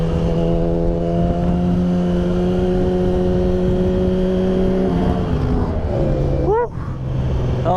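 An Aprilia motorcycle passes by as a steady, close engine drone holds throughout, with a quick rising and falling engine sweep near the end as it goes past.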